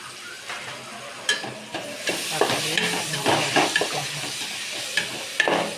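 Tomatoes go into browned onions frying in a pan for chicken biryani, giving a continuous close sizzle broken by repeated scraping stirs that rise and fall in loudness.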